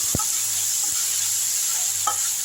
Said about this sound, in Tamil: சீரக பொடிங்க நல்லா வதக்கி விட்ருங்க